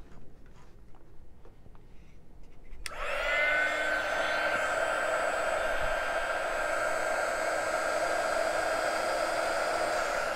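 A heat gun shrinking Monokote covering on an RC plane wing switches on after a few quiet seconds with a click, then blows a steady, loud, whining hum that continues to the end.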